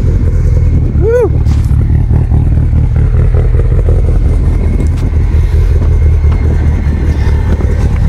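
A modified 2019 Subaru STI engine of about 700 wheel horsepower rumbles steadily up close, a loud low drone with slight revving, and a brief high squeal near the start.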